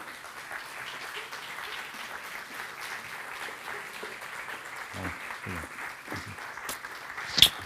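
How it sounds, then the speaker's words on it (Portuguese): A seated audience at a literary talk welcomes a guest author with a sustained, even patter of applause at moderate volume, with a few louder claps and a brief thump near the end. "Uma salva de palmas, por favor, para Anabela Mota Ribeiro"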